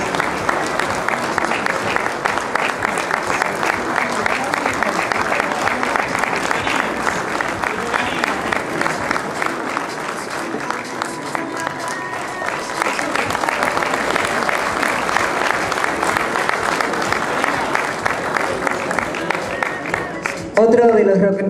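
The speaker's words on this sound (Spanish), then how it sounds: "Este aplauso también es para ustedes." Sustained applause from an audience at the Club Villa Mitre centenary ceremony: dense, even clapping that fills the room without a break, with a voice rising near the end.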